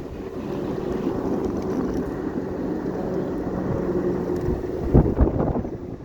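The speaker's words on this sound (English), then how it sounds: "The wind must be at about" Steady wind roars across the microphone while riding a VoroMotors E-Move Cruiser electric scooter through Philadelphia, a continuous broadband rush with a brief louder gust near the end.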